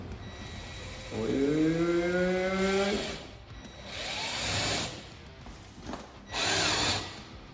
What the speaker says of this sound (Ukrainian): другою рукою беремо саморіз, третьою рукою беремо і вкручуємо